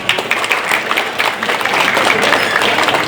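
Audience applause in a meeting hall during a regional Golkar party congress in South Sumatra, a dense, loud wash of clapping that carries on without a break from start to finish.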